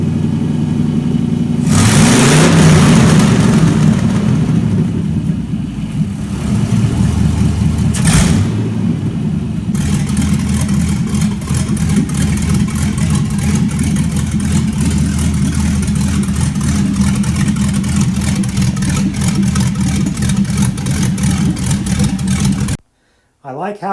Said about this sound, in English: I really like that mild lope at idle.